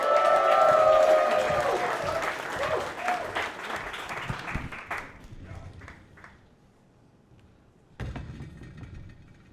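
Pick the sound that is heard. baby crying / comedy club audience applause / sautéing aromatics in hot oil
comedy club audience applause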